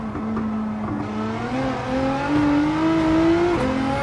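Nissan GT-R engine note rising through revs in Gran Turismo 7 racing, with a steady loud drone climbing in pitch and a brief break near the end where a turbo blow-off valve release may sit, no speech.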